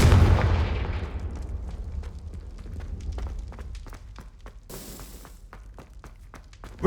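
Confringo blasting-spell explosions in Hogwarts Legacy erupt with a loud opening boom that decays, followed by scattered sharp impacts and footsteps, with another burst of blasts later and no talking.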